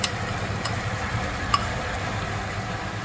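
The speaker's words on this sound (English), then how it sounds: "Just give it a good mix." Chicken fries in a pan as ginger paste is stirred in, giving a steady low sizzle with a few faint scraping clicks from the stirring.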